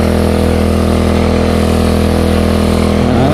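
A gift power sprayer's small engine runs steadily and loud, close by, with a dense constant drone and a slight change in pitch near the end.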